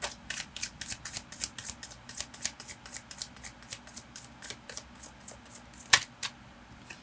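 Tarot cards being shuffled and drawn during a reading make a quiet, steady run of soft riffling clicks and flicks, with one sharper snap near the end and no voices.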